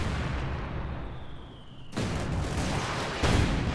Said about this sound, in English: Mortars are going down